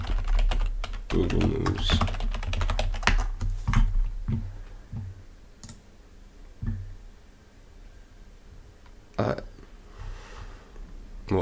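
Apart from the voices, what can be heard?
typing on a computer keyboard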